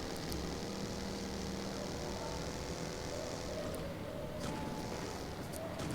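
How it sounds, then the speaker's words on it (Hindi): Steady, dense roar of passing vehicles, continuous and fairly loud, like traffic on a nearby road with engines humming throughout. "ये सारी गाड़ियों की नॉइज़ आपको आती ही होगी"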